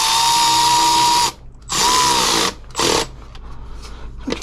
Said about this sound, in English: Then we're gonna just tighten this clamp.